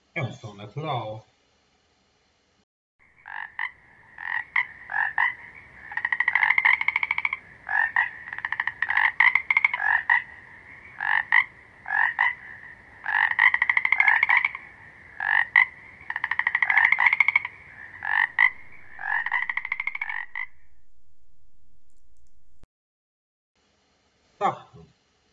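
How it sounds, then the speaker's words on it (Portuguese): A frog croaks in rapid, rattling bursts repeated over about twenty seconds, close and clear against quiet, with a short voice just before it begins. "Sapo"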